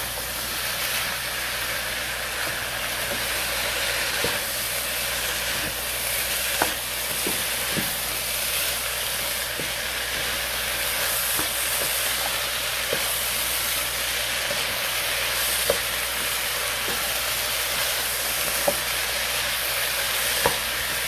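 Diced breadfruit and other ingredients are stirred together in a hot pan while cooking over an off-grid setup, giving steady frying sizzle with faint scraping clicks from the utensil at irregular intervals, with no talking.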